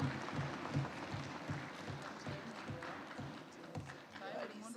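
An audience at a parliamentary induction seminar in Uganda claps in a steady, dense patter of applause that carries on throughout under a speaking voice.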